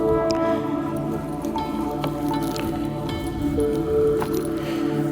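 A greater scaup duck is butchered by hand, giving wet squishing and soft tearing sounds with small cracks, close and moderately loud against a busy background.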